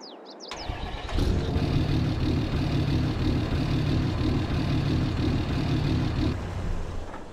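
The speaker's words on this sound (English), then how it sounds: "let you guys hear that engine when it starts up" A Ford F350 pickup truck engine in Farming Simulator 22 cranks and fires up, then settles into a steady, rumbling idle nearby, with no one talking.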